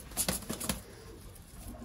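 Pigeon released by a keeper at a pigeon-flying gathering in Sialkot, Pakistan, a few quick flaps of wings and faint soft calls up close, then a quiet outdoor background.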